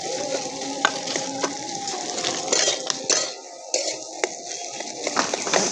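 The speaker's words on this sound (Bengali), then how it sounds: "ম্যাশ করে রাখা এবার আলুটা দিয়ে দেব। দিয়ে ভালো করে মিশিয়ে দেব।" Mashed potato is stirred into spices in a hot pan for a cabbage cutlet, with a steady sizzle and repeated clinks and scrapes of a spatula against metal.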